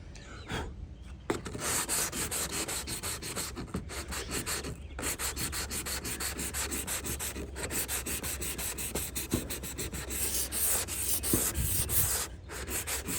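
Sandpaper rubs by hand across a 1978 Corvette body panel in steady, continuous back-and-forth strokes, close and fairly loud, with only brief pauses and no talking.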